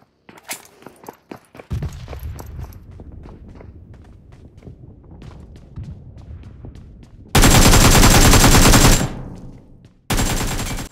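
M762 rifle fire in PUBG Mobile: a few scattered shots and footsteps lead into a loud, dense, sustained burst of automatic fire, then a brief pause and another heavy burst.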